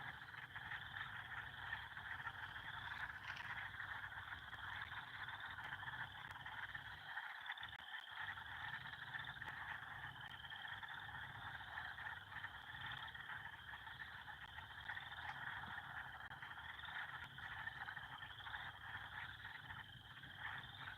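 A dense chorus of frogs croaks on a cool early-spring night, a steady, overlapping trill that carries on without pause over a low background hum.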